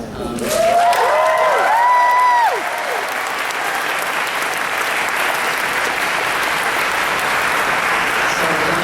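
Applause from a convention panel audience continues steadily under a brief electronic tone sweep early on, then carries on as a broad, even wash of clapping.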